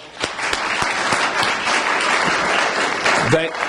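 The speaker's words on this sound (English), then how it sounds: "So I'll just give them a little round of applause." A small press-conference audience gives a round of applause, with individual claps standing out in a brisk, uneven patter that carries on for several seconds.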